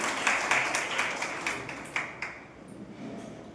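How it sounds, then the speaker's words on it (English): Audience applause at a national seminar, a fairly faint scattered clapping from a room of people that tapers off over a few seconds, with no speech over it. "Please clap for the last time"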